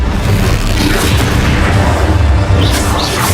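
Bombardo spell blasts in the video game Hogwarts Legacy, a loud continuous booming rumble with crackling bursts throughout, no talk.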